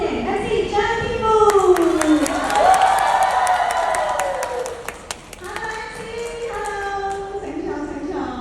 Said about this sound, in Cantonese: 我哋就以熱烈嘅掌聲歡迎 MC 張天賦